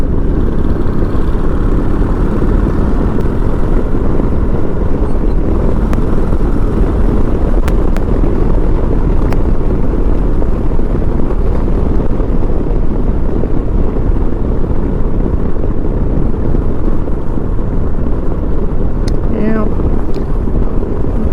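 Steady, loud wind buffeting a microphone while riding a Harley Sportster motorcycle on a back road, a dense low roar that runs unbroken throughout with no voice.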